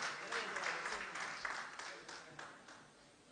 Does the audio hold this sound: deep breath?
no